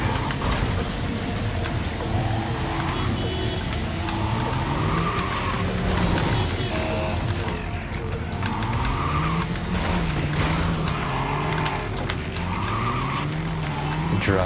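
In a racing video game, a car engine drones and shifts pitch as tires squeal and skid repeatedly through corners, loud and continuous, with occasional faint voices underneath.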